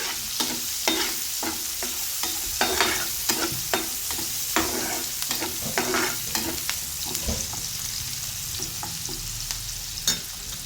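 Onion frying in a pan crackles steadily, with frequent sharp stirring scrapes of a spatula close by, loud and continuous, with no voices.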